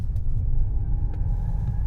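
Low steady engine rumble from a car driving continuously, a Mercedes S-Class or Bentley Flying Spur, with a dense bass drone and faint higher hum throughout, no speech over it.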